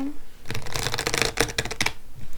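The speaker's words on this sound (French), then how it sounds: "je vais prendre quelques cartes de cet oracle" Oracle cards being shuffled by hand, with close, rapid riffling flicks that come in dense bursts for about two seconds.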